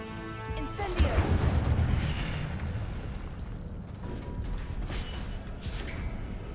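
Incendio fire spell cast in the video game Hogwarts Legacy, a booming burst of fiery blast that swells then trails into a rushing, crackling roar, with faint smaller pops after.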